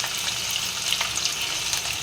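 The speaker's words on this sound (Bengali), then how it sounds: "মাছগুলো আমি ভেজে নেবো একটা করে" Fish frying in mustard oil in a pan give a steady, close hiss of sizzling fat with small crackles, alone and unbroken.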